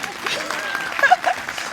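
An audience at an energy investment forum applauds, a moderate wash of clapping heard beneath a speaker's voice, brief and fairly close.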